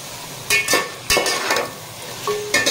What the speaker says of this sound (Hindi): चिकन डीप फ्राई हो चुकी है, ये देखें चिकन बिल्कुल ज़बरदस्त फ्राई हो चुकी है